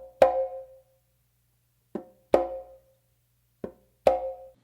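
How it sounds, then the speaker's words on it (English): Hand drumming on a conga in a tumbao pattern: five crisp strikes in a steady groove, with brighter ringing open slaps alternating with lighter, shorter taps, close and fairly quiet, no talking. "you're going to go to the conga and you're going to do kind of like a tap and then an open slap."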